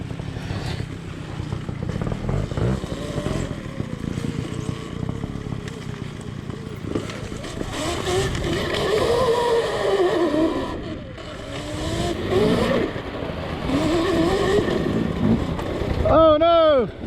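A Sur Ron electric dirt bike rides through a technical off-road section, its motor whine and tyre noise continuous and fairly loud, with a rising whirring whine near the end and voices talking over it.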